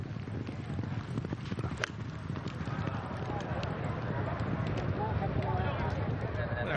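Horse hooves thud and clatter across the field during a polo final, a fast irregular clip-clop under constant wind noise and distant crowd murmur.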